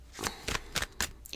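Tarot cards riffle and snap in several quick bursts, close and crisp, with soft breathy sounds between.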